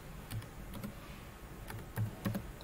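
A few soft, scattered taps on a computer keyboard as a search is typed, quiet against a faint room background.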